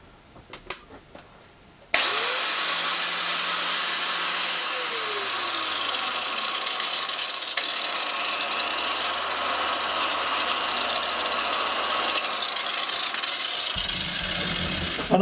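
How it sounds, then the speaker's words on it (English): A Ferrex corded angle grinder spins up after a few faint knocks and runs steadily for about twelve seconds, a loud, close, high whine with shifting tones, then cuts off near the end. "and now you're ready for grinding."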